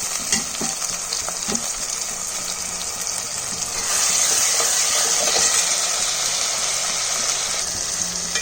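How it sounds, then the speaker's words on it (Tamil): Onions and tomatoes sauté in hot oil for a fish curry, giving a steady, close frying sizzle that grows louder and denser halfway through, with occasional light stirring clicks and no voices. "வெங்காயம் தக்காளி நல்லா வதங்கிக்கலாம்"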